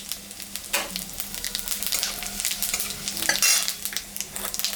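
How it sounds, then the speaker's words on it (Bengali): Dried red chillies and cumin seeds crackle and sizzle in hot oil left from frying fish, a bright close hiss with stirring scrapes and small pops throughout. "আর একটু তেল আমি দিলাম শুকনো লঙ্কা জিরা সম্বরা দিলাম"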